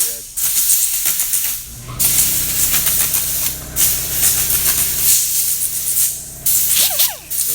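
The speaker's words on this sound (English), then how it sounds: "we got a little buffing wheel here that we gives it a little bit cleaner finish. Basically polishes the edge of the board" Small buffing wheel polishing the edge of a custom-built wakeboard, producing close, loud bursts of hissing, whooshing friction noise that stop and start in several passes, with brief gaps between strokes.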